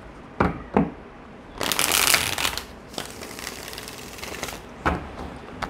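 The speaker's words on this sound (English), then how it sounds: "Okay, let's get two shuffles." Tarot cards being shuffled by hand: two sharp riffle snaps followed by a longer rustling bridge-shuffle, then a few softer flicks, close and clear with no talking.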